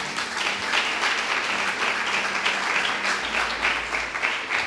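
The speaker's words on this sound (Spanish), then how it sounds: "Muchas gracias por los aplausos." An audience at a Spanish-language church sermon applauds steadily, a dense, even wash of clapping that holds at a constant level for the whole stretch, with no voice rising above it.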